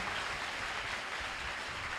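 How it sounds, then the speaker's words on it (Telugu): Church congregation at a prayer and anointing worship service clapping together, a steady dense wash of applause at moderate, slightly distant level with no break throughout. "నమ్మిన వారు గట్టిగా చప్పట్లు కొట్టి ప్రభువును స్తుతించాడు"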